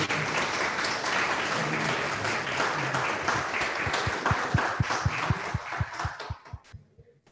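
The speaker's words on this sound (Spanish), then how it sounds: "Y por favor le damos un caluroso aplauso." An audience at a municipal council ceremony marking 158 years of the canton gives warm applause. The clapping is dense and sustained, then thins into a few distinct, separate claps before fading out.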